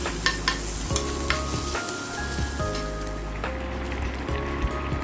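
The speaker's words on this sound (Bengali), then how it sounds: "পেঁয়াজটাকে আমি ভেজে নিচ্ছি" Onions frying in a pan after eggs were fried, a close sizzle with repeated scraping stirs and a few clinks, some faint background tones and no talk.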